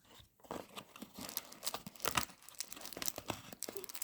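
Packaging around a Trivisa Knives Intruder-03O knife is torn open up close, with irregular bursts of ripping paper or plastic mixed with crinkling and crunching. The sound is fairly quiet, with a brief pause near the start.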